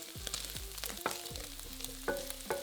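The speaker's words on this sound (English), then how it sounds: "add the pancetta to the pan and fry, stirring a few times until it's nice and crisp" Pancetta fries in a pan with a close, quiet sizzle and crackle, broken by several short scraping taps of stirring.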